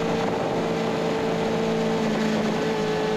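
A car accelerates hard out of a corner at a Thompson track day, its engine a loud, steady, high-pitched drone that holds close to the listener throughout with no speech.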